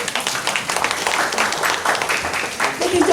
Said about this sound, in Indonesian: Mengapa tidak tepuk tangan semua untuk kita?